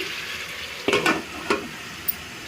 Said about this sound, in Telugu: చూడండి ఉప్పు వేసి ఒకసారి కలిపేసి మూత పెట్టేసుకుందాం